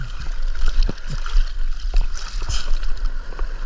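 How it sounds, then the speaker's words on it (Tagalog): Large sea waves slap and slosh around a small fishing boat off Palawan, with choppy splashes and gurgling water close by, loud and irregular over a low wind rumble. "Uy, may malaking alon."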